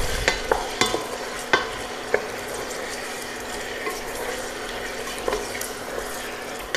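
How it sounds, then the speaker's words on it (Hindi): Mutton frying with ginger garlic paste in a pot, stirred with a spoon that scrapes and taps the metal several times at irregular intervals over a steady sizzle, close and alone. "अब इसमें 2 चम्मच अदरक लहसुन का पेस्ट डाल देंगे। कुछ देर इसको भी चला लेंगे।"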